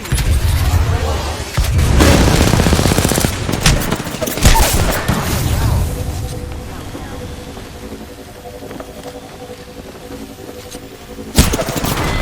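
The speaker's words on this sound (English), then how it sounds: "Enemies are shooting at me." Bursts of automatic gunfire and explosions from the battle-royale video game Apex Legends, loud and dense at first, easing to scattered shots over a low hum before another sharp burst near the end.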